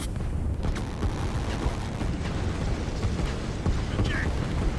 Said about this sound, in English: There's too many artillery there.